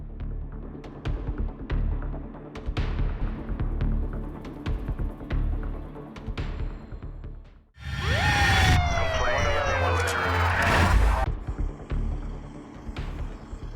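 An ambulance siren at a traffic accident scene, first under a busy, clattering background, then rising into a loud, sweeping wail up close during the second half.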